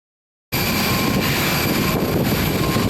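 Just after takeoff, an airliner's engines drone steadily as heard from inside the cabin. The sound cuts in abruptly after a moment of silence and stays loud and constant.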